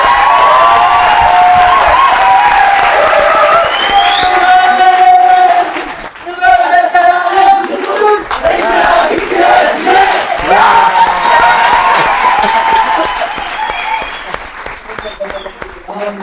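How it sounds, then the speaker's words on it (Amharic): Studio audience on an Ethiopian TV show breaking into loud applause and cheering with shouts, strong at first, then dipping briefly and rising again in uneven waves, with voices mixed in. "አጨብጭቡ።"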